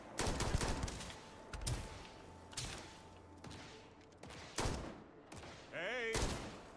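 Scattered gunshot bursts in a Starfield firefight crack out at moderate distance, mixed with thuds, under a person talking.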